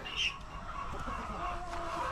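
Faint breeder hens cluck softly in a quiet barnyard, with scattered low murmurs and a steady background hum.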